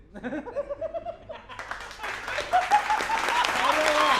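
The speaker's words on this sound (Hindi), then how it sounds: "टिप्पणी अगर समझ में आए तो आप लोग ताली बजाना।" An audience at a Delhi election political rally bursts into clapping, faint at first after a man's speech and then swelling into steady, dense applause with some laughter mixed in.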